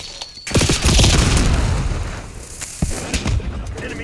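A frag grenade detonates in the Call of Duty video game, a loud close boom with a rolling tail that fades over a couple of seconds, followed by scattered softer gunfire bursts.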